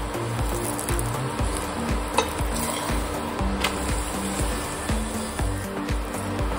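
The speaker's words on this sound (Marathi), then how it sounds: "हा परोठा आता दोन्ही बाजूने अगदी छान खरपूस भाजून घ्यायचा आहे" A shepu methi paratha roasting in a pan, a continuous close sizzle with a faint steady background hum and a few light scrapes as it crisps on both sides.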